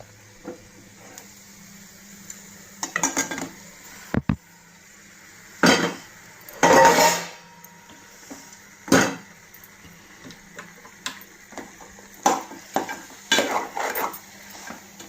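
Cooked mutton for keema curry goes into a pan and is stirred, giving sporadic metallic scrapes and clanks of a spoon against the pan, some louder knocks, and a quiet background between them.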